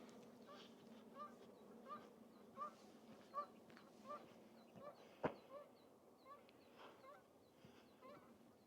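An angry goose honks again and again outdoors, in a rhythmic series of short nasal calls spaced under a second apart, with a sharp click midway through.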